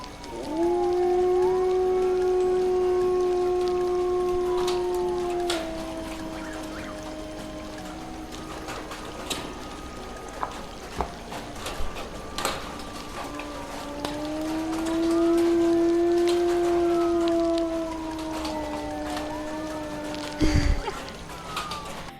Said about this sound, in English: That was our first howl that we saw